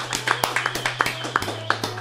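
One person clapping their own hands in a podcast studio, a short run of light, quick claps close to the mic over a low steady hum.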